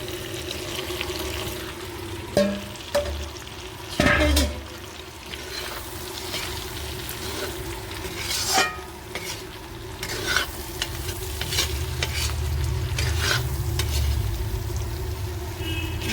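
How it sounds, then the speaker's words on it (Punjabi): Fried okra is stirred into gram flour and red chilli that are frying in a pan, a steady sizzle broken by repeated scraping strokes and the knocks of a spoon against the pan. "ਤਲੀਆਂ ਹੋਈਆਂ ਭਿੰਡੀਆਂ ਜਿਹੜੀਆਂ ਹੁਣ ਆਪਾਂ ਇਹਨਾਂ ਨੂੰ ਵਿੱਚ ਪਾ ਲਿਆ ਜੀ"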